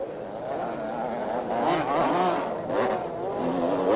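A Yamaha supercross motorcycle at the 1982 Olympic Stadium meeting revs and wails around a tight left-hand turn, its engine note rising and falling with the throttle, loud and fairly close, with other bikes faintly underneath.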